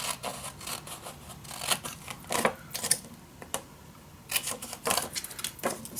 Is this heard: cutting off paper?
yes